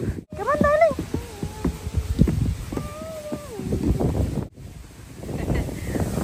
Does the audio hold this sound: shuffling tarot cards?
no